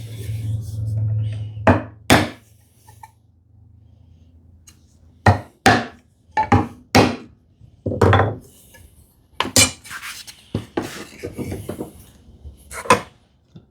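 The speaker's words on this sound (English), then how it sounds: "I can still chop with this chisel till the end." A hand chisel struck into wood while cutting joinery for a TV unit: a series of sharp, close knocks and taps in irregular clusters, with some talking early on.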